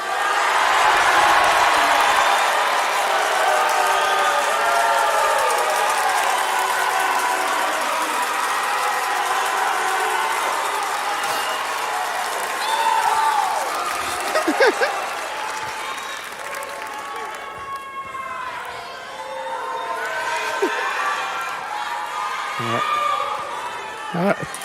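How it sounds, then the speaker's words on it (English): Large graduation crowd at a spring culinary school commencement in Austin, Texas, bursts into sustained applause and yelling of names, a dense wash of clapping and shouts that slowly thins, with scattered cheers near the end. "please yell your loved one's or graduate's name and give them a big round of applause"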